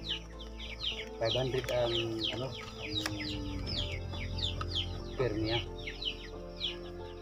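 Silkie and Rhode Island Red cross chickens cluck and chatter steadily on a free-range farm, with many overlapping calls near and far and occasional louder squawks, while people talk in the foreground.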